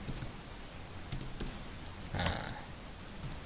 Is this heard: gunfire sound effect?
no